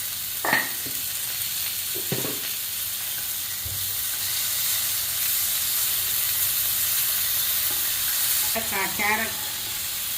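Onions and tomatoes sauté in a pan for a vegetable white kurma, giving a steady broadband sizzle with a few brief stirring knocks and spoon scrapes near the start and end.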